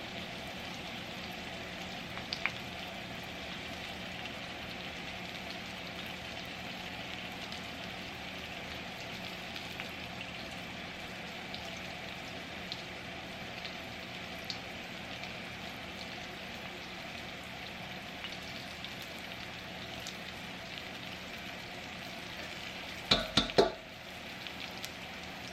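Thick pork chops frying in a pan give a steady, soft sizzle like light rain that holds evenly throughout, broken near the end by a brief clatter.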